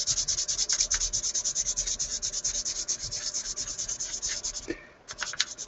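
Steady rhythmic scraping of sandpaper rubbed back and forth, close up, with a brief pause near the end before the strokes resume.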